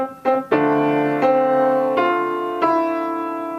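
A few piano chords, a secondary chord of the 2nd on D, struck one after another, each ringing out and slowly decaying, played softly with no talking.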